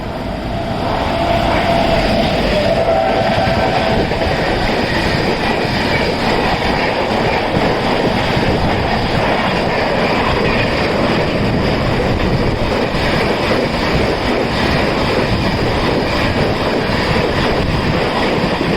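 An old Indian Railway train passes at good speed, a loud continuous rumble with rhythmic clickety-clack of wheels over rail joints and some faint wheel squeal, heard close throughout without any voices.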